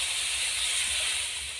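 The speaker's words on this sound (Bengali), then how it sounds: "ঝোলটা দেখুন ফুটে উঠেছে" Gravy bubbling at a boil in a cooking pot, water just added to fried spice paste for a pointed gourd and soybean dish; a steady, close, broad hissing rumble with no voices.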